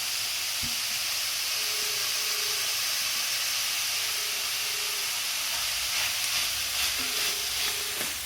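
Bitter gourd fries in a pan with a steady, loud, close sizzle that carries on throughout, broken by a few faint knocks and stirring sounds, with no talking.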